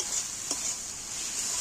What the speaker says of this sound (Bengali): এবার আমি ডালগুলো মশলার সাথে কষিয়ে নিচ্ছি।